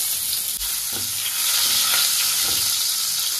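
Garlic cloves frying in hot mustard oil with black cumin seeds in a wok, a steady close sizzle and hiss with faint stirring knocks, no talking.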